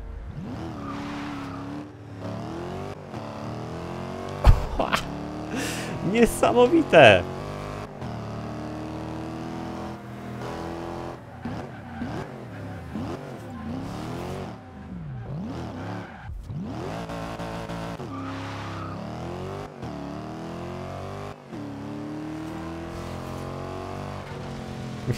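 A Ford Capri engine roars in the Forza Horizon 2 racing game, its pitch rising and falling through gear changes with brief tire squeal, while someone speaks over it briefly.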